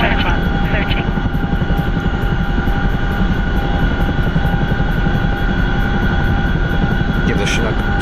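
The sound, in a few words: Chinook helicopter in a video game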